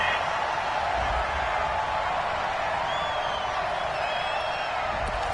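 An American football crowd reacts to a penalty flag on third down, a steady, far-off roar of many voices that holds through the clip, with a few whistles or shouts above it.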